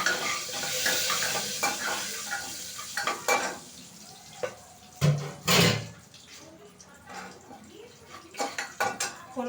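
Whole spices (cumin, bay leaves, cloves, peppercorns, green and black cardamom, cinnamon) fry in mustard oil while being stirred, with a close sizzle, pot clatter and spoon knocks coming in uneven bursts.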